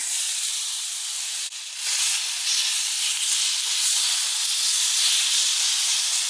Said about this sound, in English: get them sizzling a little before I add them to the quesadilla